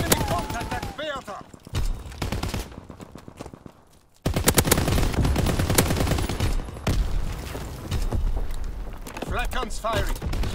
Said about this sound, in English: Flak guns firing! Clearing the skies!